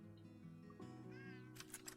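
A cartoon cat meows faintly in the farming game Farm Together, one short rising-and-falling call over quiet game background tones, followed by a brief brighter chime.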